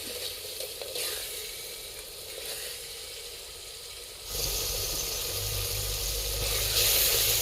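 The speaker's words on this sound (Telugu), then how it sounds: "మసాలాలంతా ఆయిల్లో బాగా ఫ్రై అయ్యాయండి" Spices fry in oil in a clay pot over a wood fire outdoors among green fields, giving a steady bright sizzle that grows louder and rougher partway through, with low crackling underneath.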